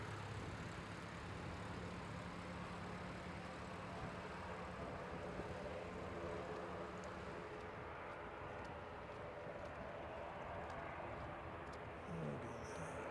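Light aircraft landing at the Canterbury Aero Club airfield, heard as a steady droning engine and rushing wind noise from inside the cockpit, holding an even level throughout with faint rumbling near the end.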